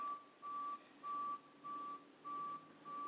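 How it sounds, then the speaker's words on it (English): A garbage truck backing up emits evenly spaced electronic reversing beeps, a steady on-off pulse about every half second, moderately distant and fairly quiet against faint street hiss. "The garbage trucks are just coming through."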